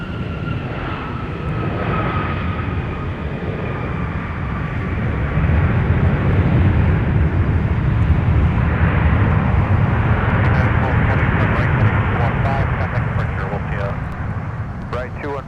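An airliner takes off from runway 17 at MSP airport, its engine roar building and holding loud and steady, with a faint radio voice underneath at times.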